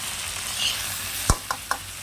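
Curry leaves hit hot oil in a pan of frying vegetable rice, a loud sudden sizzle-pop followed by two smaller crackles over a steady background hiss, close by.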